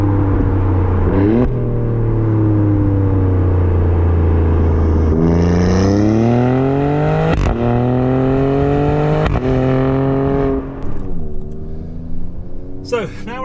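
A widebody Alfa Romeo Stelvio Quadrifoglio driven hard in race mode with a manual gearbox, the engine loud and close from inside, revs climbing through several gears with sharp drops at each shift, then easing off near the end.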